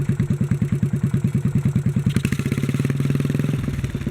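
A 1957 Bolens garden tractor engine, newly repaired at the carburetor, runs with a steady, fast chugging beat, loud and close, picking up speed and smoothing slightly partway through, with no talking.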